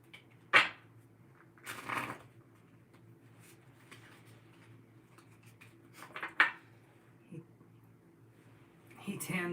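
Tarot cards being shuffled by hand, a few separate brushing riffles and rustles with quiet pauses between them, close and fairly soft.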